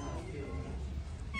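A Sphynx cat meows at a cat show, one drawn-out, moderately close call over faint crowd murmur in a large hall.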